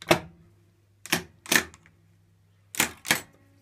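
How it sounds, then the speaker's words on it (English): Pop bumpers on a Zaccaria Ski Jump pinball machine under restoration fire in sharp mechanical clacks, a single one, then a quick pair, then another close pair after a pause, over a steady low electrical hum. "both pop bumpers firing"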